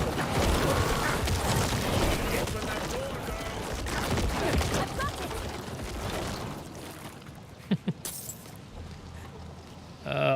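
Necromancer's Corpse Explosion bursts in Diablo 4 gameplay, a dense run of loud blasts and impacts over battle noise for most of the stretch, thinning out near the end with a few sharp pops.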